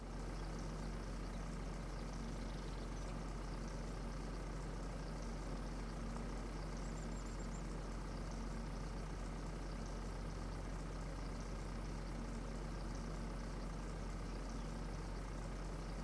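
Tractor engine idling at a refuelling stop in the farming game Farming Simulator 25, a steady low rumble that holds evenly for the whole stretch with no voices over it.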